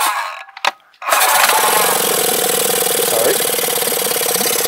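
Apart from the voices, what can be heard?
Yamaha F25 EFI four-stroke outboard engine starting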